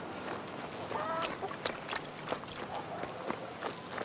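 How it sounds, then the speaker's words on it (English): Chick cheeping in the King's Bounty 2 video game, a few quick high chirps early on amid scattered clucks and footstep-like thuds over quiet game ambience. "Quit that cheeping, you green freak."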